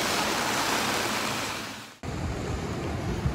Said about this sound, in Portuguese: Chuva que tá chovendo pouco.